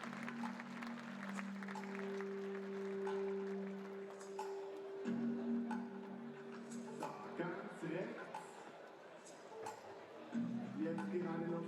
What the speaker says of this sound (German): Begrüßen wir mit einem kräftigen Applaus